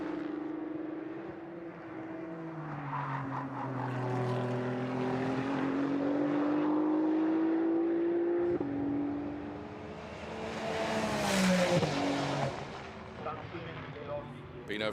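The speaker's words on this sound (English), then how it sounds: "and the sound of his 296 Challenge car" Ferrari 296 Challenge race cars on track during qualifying at Misano, with loud engine notes rising and falling in pitch as cars pass, a sustained roar peaking near the end.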